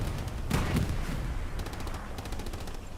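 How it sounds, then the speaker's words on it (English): Distant machine gun fire in the World War II game Hell Let Loose on Omaha Beach, rapid rattling bursts with scattered shots over a constant rumbling battlefield backdrop, no voices. "They are catching some long-range machine gun fire now."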